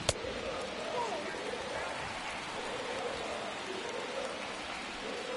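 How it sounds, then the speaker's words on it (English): Steady rain falls at Wrigley Field in a baseball video game, a continuous even hiss of rainfall that holds throughout with a brief sharp tick at the very start. "it is raining at Wrigley"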